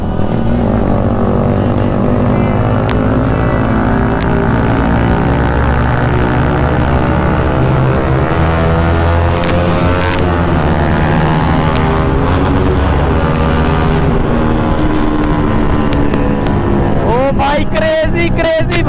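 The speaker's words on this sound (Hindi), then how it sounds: "इस बाइक की साउंड सुनना भाई" A KTM RC 390 motorcycle's single-cylinder engine roars steadily while riding through a tunnel, loud and close with a droning hum and rising revs, and the echoing engine note fills the whole stretch.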